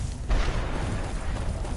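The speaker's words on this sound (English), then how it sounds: "She's just blasting it with a giant explosion," A magic staff unleashes a giant explosion in the video game Skyrim, a dense, rumbling blast that swells near the start and keeps roaring steadily for under two seconds, loud and close with no talk.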